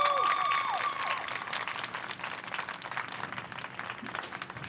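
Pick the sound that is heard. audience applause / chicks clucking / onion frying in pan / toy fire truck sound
audience applause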